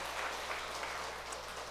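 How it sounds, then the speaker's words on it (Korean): Steady applause from a church congregation during a Sunday worship service after the choir's hymn, a faint, even wash of clapping heard from a distance for under two seconds. "우리 박수하겠습니다."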